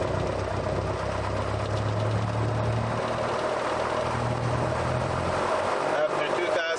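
A Musketeer light aircraft's piston engine runs up on the ground with a steady, loud droning roar and low rumble, dropping off abruptly near the end.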